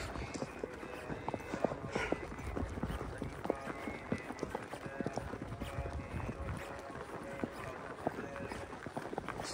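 Horse ridden calmly at a walk on a loose rein along an outdoor trail, its hooves clip-clopping in a steady, even rhythm throughout, moderately close over a continuous outdoor background.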